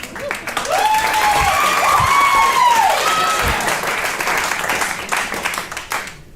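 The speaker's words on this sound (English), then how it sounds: "I don't need your pity claps." Comedy show audience breaking into loud, dense applause that swells quickly, holds steady with scattered whoops and cheers, then slowly thins out.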